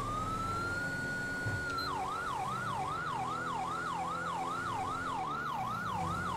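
A police car siren in GTA V with the LSPDFR mod, from an installed LSPD vehicle pack, holds one long rising tone and then switches to a fast, loud, steady yelp that runs to the end.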